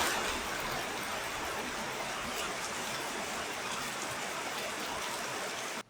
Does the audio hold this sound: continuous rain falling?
yes